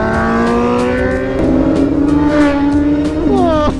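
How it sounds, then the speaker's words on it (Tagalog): Motorcycle engine, a Ducati, rising in pitch as it passes on an expressway, a loud sustained whine climbing twice as it accelerates and goes by close to the microphone. "Yun o yun, Ducati sir!"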